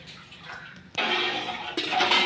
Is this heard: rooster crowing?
no